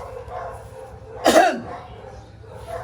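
A single sharp cough bursts out midway, close by, against a low background hum.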